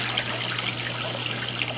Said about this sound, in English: Once the water starts to get the level up there again, it'll start flowing back down.